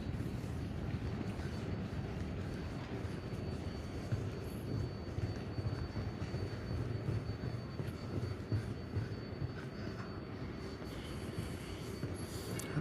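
A New York City subway train at a station, a steady loud rumble of wheels and motors holding throughout with a faint high metallic whine above it and no talk.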